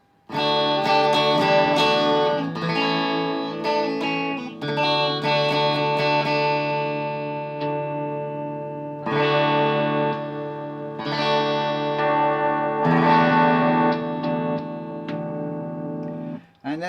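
Electric guitar with an HB Fusion humbucker set to position 4, inner and outer coils combined, playing a run of sustained chords and ringing notes through effects with slight distortion, close and loud.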